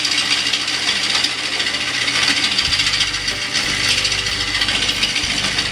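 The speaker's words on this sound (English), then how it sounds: "So I'm shaping the bottom of the bowl" A lathe tool cuts into a spinning mesquite wood bowl while its bottom is shaped, producing a steady loud scraping rasp over a low motor hum, with no speech.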